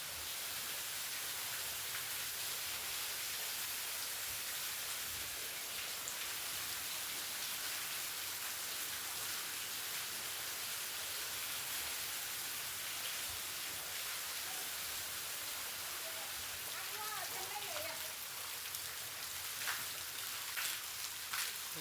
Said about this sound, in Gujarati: વરસાદ આવ્યો ને મસ્ત મસ્ત થઈ ગયું ઠંડુ ઠંડુ વાતાવરણ થઈ ગયું